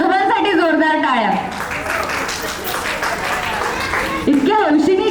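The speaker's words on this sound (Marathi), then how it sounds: "एकदा आजोबांसाठी जोरदार टाळ्या." A crowd at a baby shower celebration applauds for a grandfather, sustained clapping under a loud announcer's voice and music.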